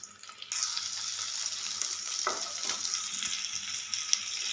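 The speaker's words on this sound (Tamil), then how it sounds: "நம்ம வெங்காயத்தை போட்டு வதக்கிக்கலாம்" Onions sautéing in hot oil for a fish curry, a steady close sizzle and crackle that jumps louder early on, with faint stirring scrapes under it.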